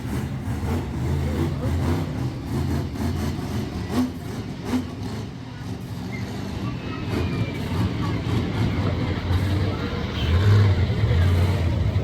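Greg Bursey's GMC Lumberjack monster truck revving hard as it slings around a turn at a Middletown, New York event, a deep continuous engine roar swelling louder toward the end, with a commentator talking over it.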